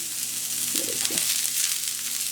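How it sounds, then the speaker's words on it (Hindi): Onions sizzle on a hot seasoning plate in a steady, loud, close hiss, with a brief clatter of food landing partway through; no one speaks. "हमारी सीजनिंग प्लेट गर्म हो गई है, इसमें पहले हम थोड़े से मैं प्याज डालूंगी"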